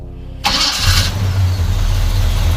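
A starter cranks briefly, then the big engine of a 1976 Chevy C20 Cheyenne pickup with dual exhaust catches and settles into a loud, steady rumbling idle close by.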